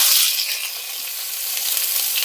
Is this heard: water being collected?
no